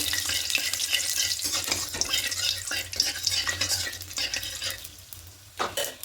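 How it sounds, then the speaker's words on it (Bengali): Whole cumin, cardamom, cloves and cinnamon sizzling in hot oil for a rohu fish kalia, stirred briskly with a spoon scraping the pan, loud crackling and clatter that eases toward the end. "এবার এই তেলের মধ্যে গোটা জি গোটা গরম মশলা করে দেবো গোটা জিরে এলাচ লবঙ্গ আর দারুচিনি"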